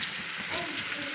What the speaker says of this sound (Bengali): তেল আমাদের গরম হয়ে গেছে, এবার আমরা দিয়ে দেবো পেঁয়াজ কুচি, দিয়ে দিচ্ছি টমেটো কুচি